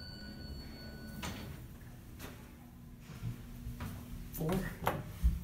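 An Otis Gen2 elevator's very tall single-side sliding door moves in an East Liberty Place building in Pittsburgh, with a few soft thumps and a rumbling slide near the end over faint room hum and quiet background voices.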